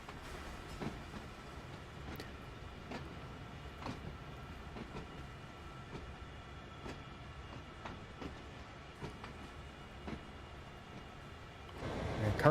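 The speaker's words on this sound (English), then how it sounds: "We're currently cruising along with the CSX S on Sandpatch Grade." A CSX freight train cruises along Sandpatch Grade in Train Sim World 2, with a steady rumbling run and rhythmic clickety-clack wheel beats at regular intervals, swelling slightly louder near the end.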